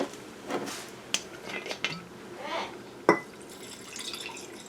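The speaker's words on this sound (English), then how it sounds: "we want to make sure the vinegar completely covers the herb" Vinegar poured into a jar of foraged cleavers herb, with faint liquid trickles and drips, a few glassy clinks and taps, and a sharper knock near the end.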